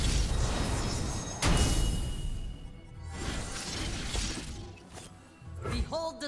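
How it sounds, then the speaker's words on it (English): Level-up effect from the card game Legends of Runeterra, a shattering crash followed by swirling whooshes and sparkling bursts that rise and fade, ending in bright chiming tones, played alone at moderate level. "The sound design and effects for non-champion level ups are also excellent."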